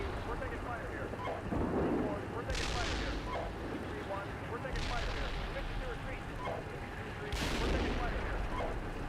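Heavy tank cannon fire from the armored-combat simulator Steel Beasts Pro PE, with three deep booming blasts spaced a few seconds apart, each trailing off over a constant battlefield rumble.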